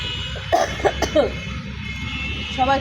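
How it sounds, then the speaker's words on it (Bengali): A person coughs several times in short bursts, fairly close, with a hoarse, strained quality and light background noise between coughs. "বেশি কথা বলে যে কাশি উঠে যাচ্ছে"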